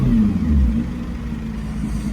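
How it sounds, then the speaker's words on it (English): Nissan GT-R 2018 engine revving up briefly, a loud low rumble that swells early and then settles back toward idle, close by with no talk. "Give it a couple of revs."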